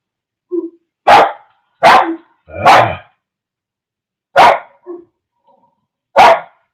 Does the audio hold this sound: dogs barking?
yes